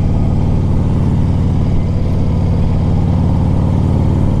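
Steady, loud idle of a 2001 Harley-Davidson Ultra Classic with a carbureted S&S engine on a cold start, a deep continuous thumping drone with no revving and no voices.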